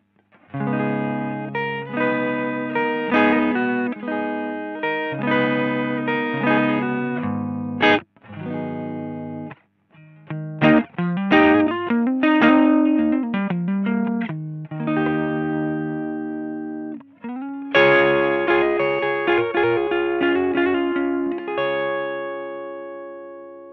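A Victory V4 The Sheriff amp's first channel carries an electric guitar, strummed chords and picked melodic phrases sounding bright and full, with short gaps and sustained ringing notes.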